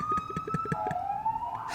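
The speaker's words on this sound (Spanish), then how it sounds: "ahí viene la ambulancia" Ambulance siren passing outside, a steady wailing tone that sweeps downward near the end, heard moderately loud over a background of rhythmic thumping.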